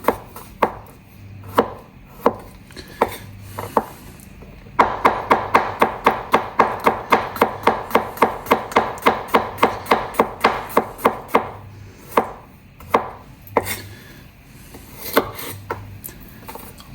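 A sharp kitchen knife chops garlic on a cutting board, scattered single taps at first, then a fast steady run of close crisp chops before slowing back to occasional strikes.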